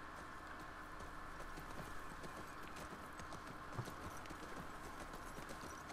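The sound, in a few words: horses walking, hooves clip-clopping, in video game The Last of Us Part II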